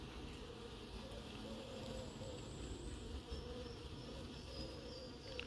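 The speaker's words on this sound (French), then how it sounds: "Deux frelons dans la bouteille horizontale." Hornets trapped in a horizontal bottle trap beside beehives on a river island apiary, a continuous close buzzing drone with shifting whine over faint outdoor background.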